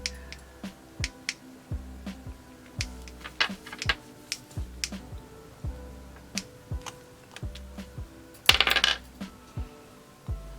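A white die rolling and clattering on a hard surface, a string of small hard ticks and bounces repeated many times, with one louder rattle near the end; no talking.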